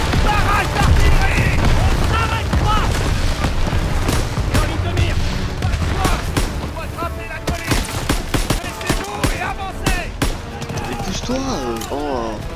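Explosions and gunfire in a Call of Duty WW2 battle on Hill 493, with booms and bursts of shots rolling under a loud, dense war din, voices and music-like tones mixed in throughout.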